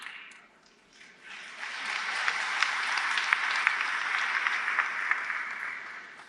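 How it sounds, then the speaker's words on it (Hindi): Audience applause breaks out during a political speech, starting faintly and then swelling into steady, sustained clapping from a large crowd, heard alone without talk. "लेकिन अब ज्यादा ताली एक और बात पर आपको बजानी पड़ेगी"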